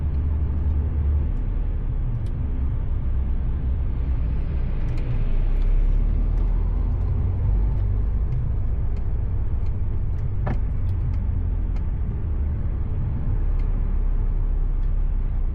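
Busy road traffic beside a university, heard from inside a truck cab as a loud, constant low rumble of engines and tyres with occasional faint clicks and rattles, no voices.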